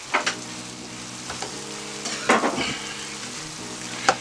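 Apples fry in butter and melting brown sugar in a pan, a steady close sizzle running throughout with a few sharp utensil clicks and stirs on top.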